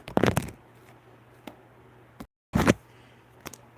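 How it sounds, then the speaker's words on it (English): Two quick bursts of a tarot deck being riffle-shuffled, close and crisp, each lasting about half a second with a few soft card taps between them in a quiet room. "I shuffled this deck"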